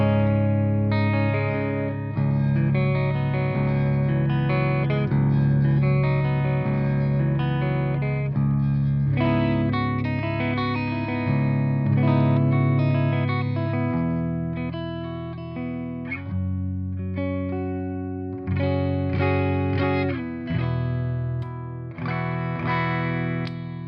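Electric guitar played through the clean channel of a PRS MT15 tube amp, a steady run of ringing chords and single notes that sound full and close, with no talking over them.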